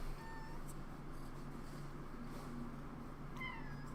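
A pet cat meows in a room over a low steady hum, giving a couple of thin, faint mews, one near the start and another near the end.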